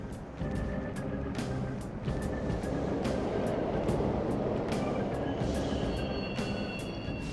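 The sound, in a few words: subway trains running in Mementos, video game Persona 5 Royal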